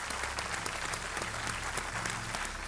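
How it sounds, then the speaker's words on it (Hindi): Studio audience on the KBC TV quiz show applauding, a steady dense clapping that fills the whole stretch at moderate level, with no talk over it. "एक बार फिर तालियों के साथ"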